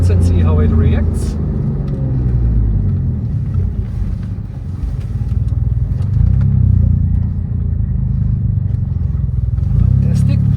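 A Porsche with upgraded performance brakes is driven around bends, its engine and road rumble heard from inside the car together with wind buffeting and a voice talking over it.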